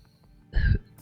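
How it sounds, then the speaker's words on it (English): A single short, soft cough or throat-clear bursts out once amid near silence. "She sort of coughs a little bit under her breath"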